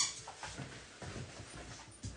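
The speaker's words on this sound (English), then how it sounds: "stop barking" A dog named Jessie whimpers and pants indoors, soft repeated whines and breathy yips close by, fairly quiet and continuous with small bursts throughout.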